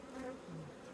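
A honeybee swarm buzzing steadily and close during transfer into a beehive, a dense continuous hum with no voices.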